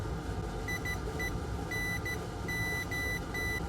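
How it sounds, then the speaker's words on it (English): A multimeter in continuity mode beeps while probing an EVGA GeForce GTX 1070 SC graphics card, giving a series of short and longer high-pitched tones in an irregular pattern over a steady background hum. "Meter in continuity mode."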